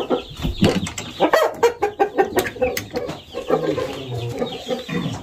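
Caged roosters of expensive breeds cluck and squawk in quick, irregular bursts at close range, with several birds overlapping and no talking.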